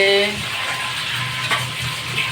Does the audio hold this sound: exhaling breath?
no